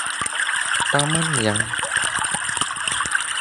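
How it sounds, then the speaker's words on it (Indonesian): A garden fountain gives off a constant, close rush of flowing, trickling water, with a voice talking briefly over the steady splashing. "Suara air mancur atau gemericik air tersebut"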